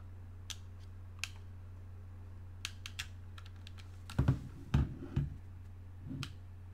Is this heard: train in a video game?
no